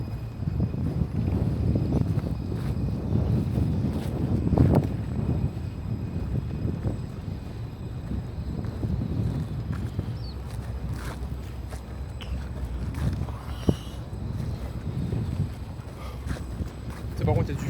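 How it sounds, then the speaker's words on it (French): Wind buffets the microphone during a trail run in a continuous low rumble, with occasional rustles and bumps mixed in. "Par contre il y a du vent, ça fait plaisir"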